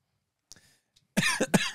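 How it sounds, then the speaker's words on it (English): A couple of quiet throat sounds, then two loud, sharp coughs close to the listener. "we know what that cough means."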